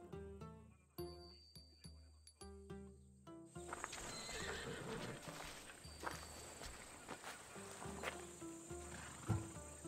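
Horse in Assassin's Creed Odyssey video game: a loud neigh and whinny over steady clip-clop of hooves, with rhythmic hoofbeats at first, then a dense mix of hooves and ambient game sound.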